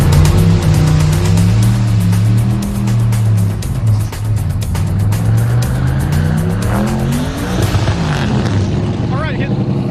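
A Caprice cop car with a 1,000 horsepower turbo LS3 roars loud and close, its engine note rising and falling with tire squeal, while people talk over it.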